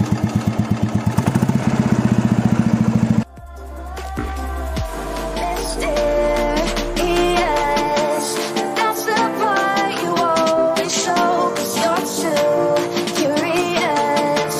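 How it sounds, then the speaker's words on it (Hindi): A vintage 1972 Royal Enfield motorcycle engine runs with a loud, fast, even thumping for about three seconds before music with a strong beat takes over. "आप साउंड देख सकते हो क्या एक नंबर साउंड है। एक नंबर भाई साउंड, रॉयल एनफील्ड,"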